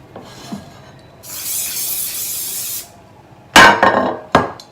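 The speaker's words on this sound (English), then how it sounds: "What I'm going to do now is lightly spray my oven dish." A sustained hiss of cooking oil spray onto an oven dish lasting about a second and a half, followed by a few sharp knocks and clatters of kitchenware.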